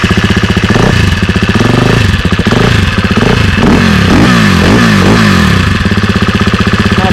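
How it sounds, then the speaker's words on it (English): A 2022 KTM 350 Six Days motorcycle idles on its stock factory exhaust, a loud, steady close-up thrum with choppy pulsing and a few light blips of throttle, no voices. "Today we're going to test the sound of the original exhaust before putting on the Akrapovic."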